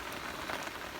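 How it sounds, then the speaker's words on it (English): Light, windless rain patters steadily on surfaces outdoors, an even, soft hiss of many small drops with no gusts. "Rainy today. Nice rain. Not very strong, no windy."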